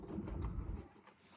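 Pigeons coo softly, a low murmuring burble close by, brief and unaccompanied.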